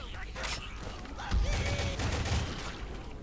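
Rapid machine gun bursts in the zombie shooter Left 4 Dead 2, loud and close with dense rattling volleys and a heavy low thump partway through, while players talk over the gunfire.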